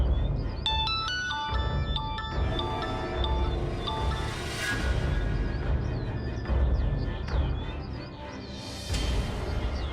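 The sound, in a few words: phone ringing on a call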